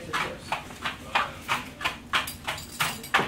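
Foley horse hooves clip-clop in an even, steady rhythm, about ten crisp close hits spaced roughly a third of a second apart, with no voices heard.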